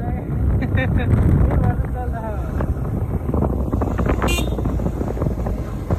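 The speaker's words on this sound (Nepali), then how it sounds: "हावा आएको छ गर्मीको कारण चलिरहेको छ" Wind buffets the microphone in a continuous low rumble, with a voice and faint background sounds mixed underneath.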